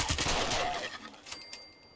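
Gunfire aimed at ghouls in Fallout 76, a dense burst of rapid shots at the start that thins into a few scattered reports and fading echoes.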